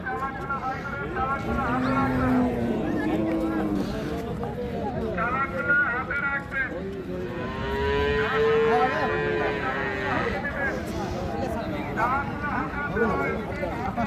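A dairy cow moos in long, loud, drawn-out calls, close by at a cattle market, while people haggle over and between the lowing.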